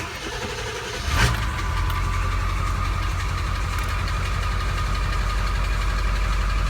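A 1999 Ford F350 truck engine cranks and catches about a second in, then settles into a steady, loud, close idle with a deep rumble and no talking.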